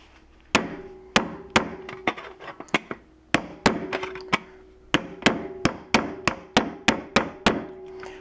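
Sharp hammer blows pound the lid of a homemade oatmeal-tube pinhole camera shut, about fifteen close, loud wooden knocks in an uneven rhythm with short pauses between bursts.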